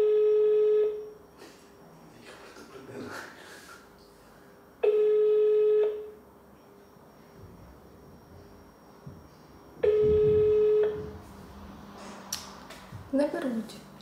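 An unanswered call to a regional civil protection office rings out as three long, steady ringback tones about five seconds apart, with people talking quietly in the gaps.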